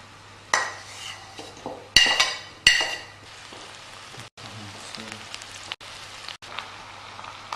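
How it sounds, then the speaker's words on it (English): A bulb and a half of finely chopped garlic goes into a pot of onions for a chicken korma curry: a few sharp clatters and scrapes, then a steady, rain-like sizzle that carries on quietly in the background. "For this curry we're using about a bulb and a half of finely chopped garlic, which you're going to add to our pot"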